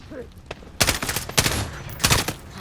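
Machine gun fire in the Call of Duty Modern Warfare video game: several loud sharp bursts of automatic gunfire in quick succession, with short gaps between volleys and game sound in the background.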